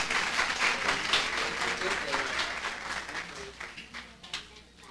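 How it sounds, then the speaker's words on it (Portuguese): A small audience of young people applauds at a nature-themed event, a quiet patter of clapping mixed with voices chatting over it, fading toward the end. "Palmas para eles"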